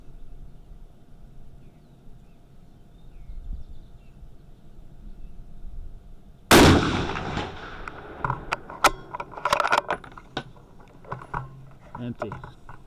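A single loud 6.5 Creedmoor rifle shot cracks out midway after a quiet stretch, followed by a run of small clicks and handling clatter.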